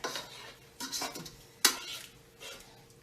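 Shrimp cooking in a pot for broccoli pesto pasta being stirred, with a few separate scrapes and clanks of a utensil against the pot in irregular bursts, one sharp knock standing out, close and moderately loud with no talking.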